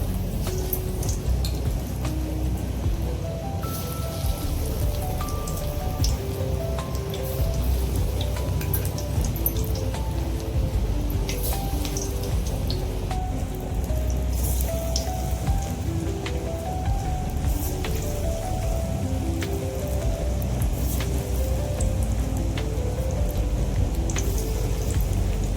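Banana flower vada sizzles and crackles as it fries in hot groundnut oil, a dense, steady bubbling with faint music playing underneath.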